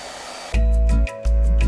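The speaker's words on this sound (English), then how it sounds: "Use a hairdryer to dry the water in the reservoir." A hairdryer blows into the drained water reservoir of a Color LaserJet CP4025 printer, switching on loudly in two steady bursts with a short gap between them, with no talking.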